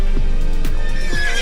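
A Belgian draft horse whinnies with a loud, close neigh made of several quick descending calls in a short burst, alone without talk.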